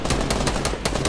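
Rapid automatic gunfire in the battle royale video game Fortnite, a dense burst of sharp shots firing about every tenth of a second, loud and close with no talk over it.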